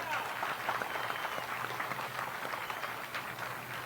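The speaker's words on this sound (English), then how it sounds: "So let's give all the staff a round of applause" A crowd at a Bassmaster Elite Series weigh-in on the St. Johns River applauds the event staff, a dense, steady wash of clapping and cheering that continues throughout at an even level.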